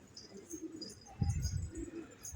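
Pigeons coo softly on a rooftop loft, low throaty murmurs rising and falling in short bursts with a few faint chirps and outdoor ambience around them.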